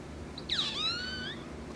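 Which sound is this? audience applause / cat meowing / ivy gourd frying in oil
cat meowing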